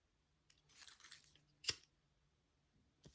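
Scissors snipping the small tail ends off a zipper for a recessed zipper panel on a sewing bag project, several quiet close-up cuts with a sharp, distinct snip in the middle and another toward the end, separated by silence.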